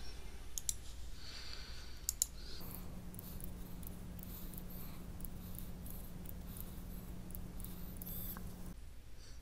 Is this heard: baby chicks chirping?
no